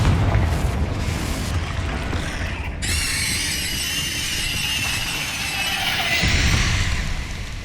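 A Confringo fire spell detonates in Hogwarts Legacy with a loud, sustained booming blast, a sharp crack near the three-second mark followed by roaring, crackling fire that swells again toward the end.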